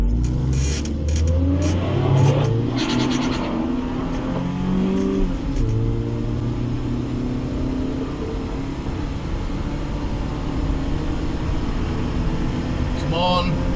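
A Rover 620 pulls away from the line at Santa Pod drag strip, its engine note climbing steadily through the revs, loud and close, with voices talking over the start.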